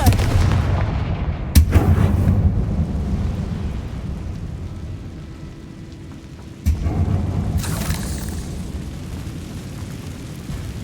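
Explosive blasts from a Confringo fire spell in Hogwarts Legacy, two sharp booming bursts a few seconds apart followed by rumbling debris and a low ambient hum, loud and close.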